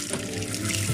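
Tap water runs steadily as a Chinese S10-type FMJ08/MF22 rubber gas mask is rinsed in a sink, a continuous close splashing flow throughout.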